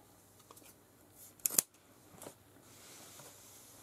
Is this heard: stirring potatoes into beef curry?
no